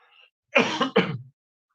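A preacher imitates a cough during a church sermon: two short, harsh bursts close together, near and fairly loud, with quiet before.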